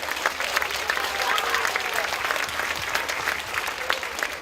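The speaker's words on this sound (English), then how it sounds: "let's give them a round of applause." An audience at a school's 50th anniversary celebration breaks into applause, a dense, even patter of many hands clapping continuously at moderate distance, alone without talk.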